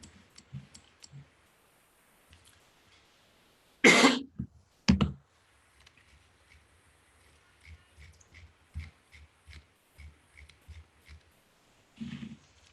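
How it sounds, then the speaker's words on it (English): Coughing during a live-streamed trading session: a couple of loud, harsh coughs close to the microphone, then quieter clicks and small noises, with another throat-clearing burst near the end. "Excuse my coughing there when I was going live on YouTube."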